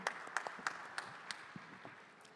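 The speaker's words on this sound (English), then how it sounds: "A round of applause for Jaswant Munot" Sparse, fairly quiet clapping from a panel discussion audience, a handful of distinct claps over a soft wash that thins out within a couple of seconds.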